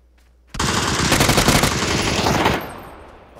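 Rapid burst of automatic gunfire in a video game, loud and close, running continuously for about two seconds before cutting off into a fading tail.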